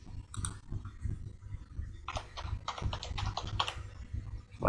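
Quick bursts of key presses rattle on a computer keyboard nearby, a short cluster followed by a longer run of rapid, fairly quiet typing.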